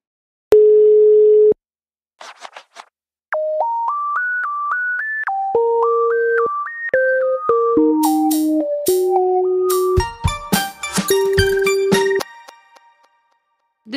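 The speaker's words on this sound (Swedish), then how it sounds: "Vi hoppar dit och ringer Antonia" Telephone dial tone followed by a melodic run of keypad tones and ringing tones while a call is placed, loud and clear with no voices.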